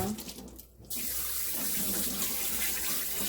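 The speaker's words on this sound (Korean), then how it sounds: "요거를 흐르는 물에 한번 살짝 씻어주세요." Running tap water pours steadily into a sink as five cleaned squid are rinsed for frying, a close, continuous rush after a brief softer start, with no voices.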